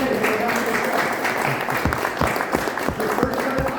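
Scattered clapping from a small audience after a close-up card trick, the four of spades revealed, a brief burst of hand claps over a background murmur with voices talking.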